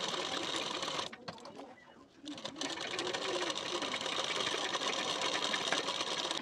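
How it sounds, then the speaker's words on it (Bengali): A sewing machine stitches the belt section of a boat-neck blouse. It whirs steadily and close, dips into a short lull near the start, then runs on continuously. "এই দিকের যে পার্টটি রয়েছে সেটাকেও ঠিক এইভাবে রেখেই বেল্টের পার্ট সেলাই দিতে হবে।"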